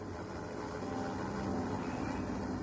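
A helicopter flying overhead, a steady, low, rumbling engine drone that stays constant and fairly faint throughout, with no voices.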